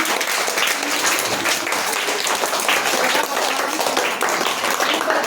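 An audience at a naat competition claps loudly during a prize announcement, a steady, dense wash of applause from many hands that lasts throughout.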